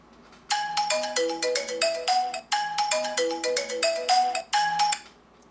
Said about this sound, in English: To make your phone ring, press the button on the Orbit key.